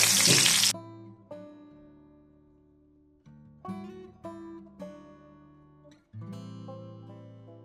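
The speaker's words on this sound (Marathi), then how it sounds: "आता तेल गरम झाला. आता मी लसूण टाकतोय." Garlic dropped into hot oil for a homemade tuna fish curry sets off a brief, loud sizzle that quickly dies away, followed by steady tonal background music.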